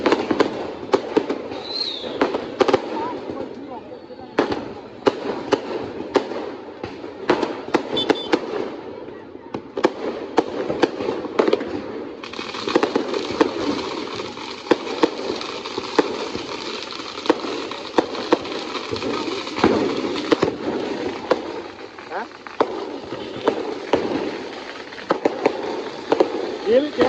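A long string of Diwali firecrackers bursting, rapid sharp cracks and pops crackling almost nonstop for nearly half a minute, close by and loud, with voices talking between the bangs.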